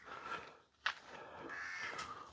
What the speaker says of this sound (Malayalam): ഓ, കാക്കയുടെ ഒക്കെ സൗണ്ട് കേട്ടില്ല മോനെ?